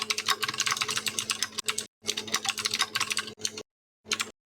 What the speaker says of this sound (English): Got some nice typing ambient noise there.